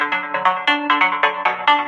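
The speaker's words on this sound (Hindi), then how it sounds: "अब ये लाइव चलते समय ठेकेदार का फोन आ रहा है मेरे में" A mobile phone plays a melodic ringtone for an incoming call from a contractor, bright repeating notes in regular bursts, loud and close with no talking.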